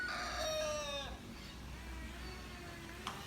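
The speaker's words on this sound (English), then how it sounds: "Those are my brother's chickens, by the way." A rooster crows loudly at a Filipino house construction site in Bohol, a long harmonic call lasting about a second, followed by quieter background ambience and a brief faint click near the end.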